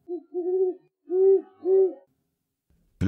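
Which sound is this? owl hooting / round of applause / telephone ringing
owl hooting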